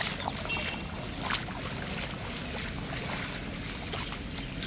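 Floodwater rushes through Nallur temple in heavy rain as a continuous, fairly quiet wash of flowing water with small splashy bursts scattered through it, and no clear voices.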